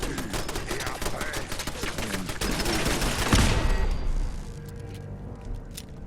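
Rapid bursts of gunfire in the video game Fallout 4, dense volleys of shots crackling close and loud for several seconds before thinning out to a few scattered pops.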